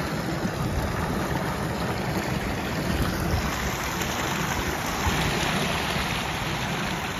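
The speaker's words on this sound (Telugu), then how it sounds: "చాలా నీళ్ళు వస్తున్నాయి." Water from two or three irrigation motors gushes into a small village pond with a steady, dense broadband rush that holds unbroken and fairly loud throughout.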